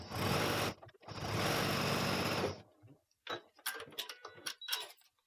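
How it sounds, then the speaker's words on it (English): A sewing machine stitches fabric for foundation piecing in two loud bursts of steady running, followed by softer clicks and handling noises as the machine stops. "So now I'm going to sew."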